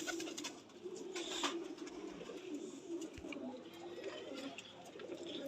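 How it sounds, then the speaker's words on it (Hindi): Golden tiger pigeons, a breeding pair, coo softly and repeatedly in low, rounded murmurs, fairly faint against quiet background noise. "मेरे भाई टाइगर गोल्डन कबूतर है ये माशाल्लाह"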